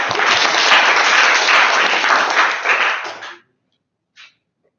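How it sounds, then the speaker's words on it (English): A meeting audience applauds a speaker in a burst of dense clapping that lasts about three seconds and then stops abruptly, leaving near silence apart from one faint tap. "Give her a round of applause."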